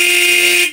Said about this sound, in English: Now I'm gonna beep the horn.